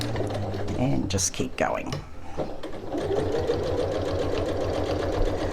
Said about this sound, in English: I'll reverse stitch there